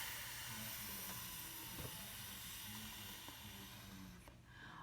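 A voice softly imitates the steady, whispering hiss of a lawn sprinkler as a continuous faint airy spray sound that fades out near the end.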